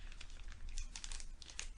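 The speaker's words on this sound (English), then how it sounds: "I'm going to go ahead and remove 2 balls from the plastic bag." Cotton balls being pulled out of a plastic bag, with close, quiet crinkling and rustling in quick irregular bursts and no speech over it.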